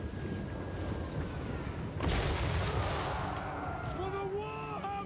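Pistol gunfire in a Warhammer battle game, with a burst of sharp shots about midway over a rumbling battlefield din, followed by tonal in-game effects and faint voices.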